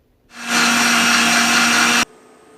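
A mixer grinder whirs up loudly to grind mint juice ingredients with water, holding a steady high whine for about a second and a half before cutting off abruptly.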